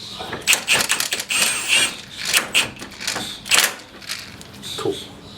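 A ratcheting wrench tightens a bolt on a Nissan Quest, giving bursts of sharp metallic clicking in quick repeated strokes, close and clear, with short pauses between runs.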